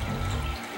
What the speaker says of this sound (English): If you come up here, Paul, you can see the water pumping into the tank